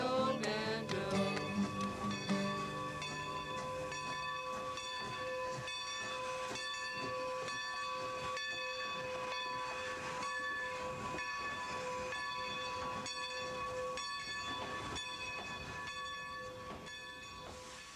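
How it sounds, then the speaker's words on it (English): A subway passenger train runs steadily and loud from start to finish, with a sustained rumbling roar, tonal hums and hissing, and a denser burst near the beginning, no talking. "isn't that a neat train, Ooga-Booga? That train is called a subway"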